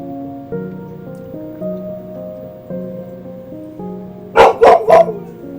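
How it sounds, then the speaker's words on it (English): A dog barks three times in quick succession near the end, loud and close, after a stretch of steady droning background tones with no talk. "Another one of the dogs."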